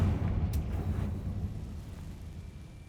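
A Confringo fire spell detonates in Hogwarts Legacy, giving a brief crack followed by a deep, rumbling blast that slowly fades.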